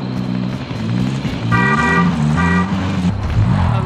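A car driven in the Call of Duty: Modern Warfare video game, its loud, steady engine drone continuous throughout, with a short horn-like tonal toot sounding twice in the middle, no talking.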